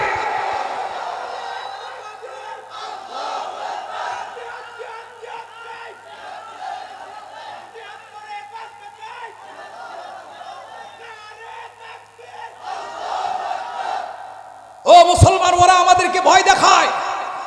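A crowd roars a chant of takbir, Allahu Akbar, in a loud sudden burst at the end, after a man's amplified, echoing voice calls out to them at a religious gathering.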